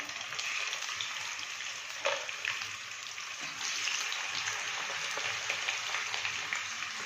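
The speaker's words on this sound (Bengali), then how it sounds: "তেলটা গরম হয়ে গেছে, এতে একটা একটা করে মাছ দিয়ে দেব। মাছগুলো সব দিয়ে ভেজে নেব।" Rohu fish pieces sizzle in hot oil, a steady close hiss and crackle that swells slightly as more pieces go into the pan, with no voices over it.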